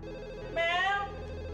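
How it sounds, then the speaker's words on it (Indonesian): A telephone rings once in an indoor scene of an Indonesian drama series, a short electronic trill over a low steady hum, with no one talking over it. "Mel, tolong angkatin telepon, Mel"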